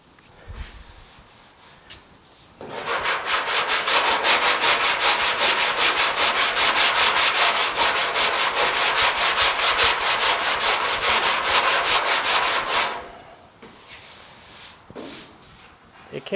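Steady, loud scratchy sanding over epoxy primer down to bare steel on a GTO restomod fender, running about ten seconds without a break, with quieter handling noise before and after.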